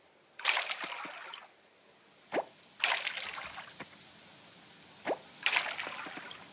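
Crops being watered with a watering can in the farming video game Coral Island, heard as three short bursts of splashing, pouring water, each followed by a brief plop, spaced evenly and fairly close.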